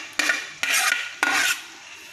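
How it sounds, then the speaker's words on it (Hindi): Three separate scraping strokes as cooked rice is spread across a pot for vegetable dum biryani, each a short rasping sweep of a utensil, close and clear with quiet gaps between. "सभी चावल को हम इसे से फैला लेंगे"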